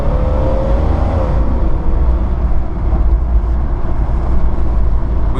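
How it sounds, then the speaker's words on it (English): Lifted Jeep Cherokee XJ with a straight-six engine driving down a road on upgraded wheels and tires, a steady low engine drone and road rumble throughout, fairly loud and continuous with no talking. "Truck has no problem going down the road with these wheels and tires"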